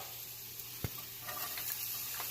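Onions and garlic sizzle softly in a hot pan for stuffed bell peppers, a steady low crackle with a single sharp knock of a utensil early on and no voices.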